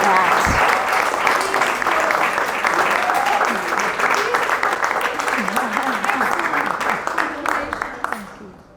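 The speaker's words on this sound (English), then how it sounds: "Let's just clap for that." Sustained audience applause at a welcome reception honouring the first woman Auditor-General of South Africa, dense and loud clapping throughout that fades toward the end, with some voices underneath.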